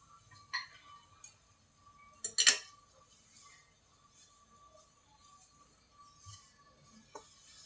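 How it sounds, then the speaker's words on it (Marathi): Semolina (rava) roasting in a pan on medium gas while a metal spoon stirs it, giving sparse scattered clinks and scrapes against the pan with quiet gaps between, faint and close. "मीडियम गॅसवर आपल्याला रवा भाजायचा आहे"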